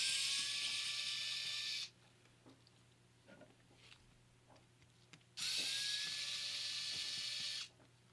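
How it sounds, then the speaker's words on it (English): Small screws being driven out of a Game Boy Advance motherboard with a power screwdriver, two steady whirring bursts of a couple of seconds each, separated by a quiet pause with faint handling ticks. "Let's go ahead and get the motherboard screws out."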